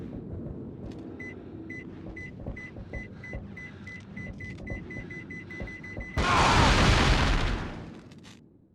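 Steady electronic beeping in the Cold Fear video game, a regular chirping pulse repeating for several seconds, then cut off by a loud roaring explosion that swells and slowly fades away.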